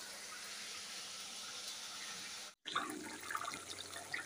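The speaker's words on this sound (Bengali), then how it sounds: "আলু কেটে পরিষ্কার করে ধুয়ে নিলাম" Cut potatoes are washed under running water, a steady close gush from the tap that breaks briefly and then turns into splashing and sloshing in a kitchen sink.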